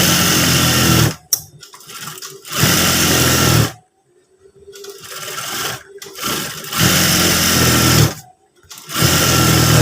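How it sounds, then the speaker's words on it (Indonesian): A sewing machine stitches a trouser waistband in quick bursts, loud whirring runs stopping and starting several times with short quiet gaps between, heard up close with no talk over it. "Nah, ini kita jahit pas bagian sebelah sini."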